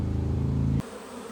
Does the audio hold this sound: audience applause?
no